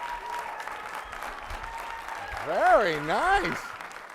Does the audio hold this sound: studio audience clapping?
yes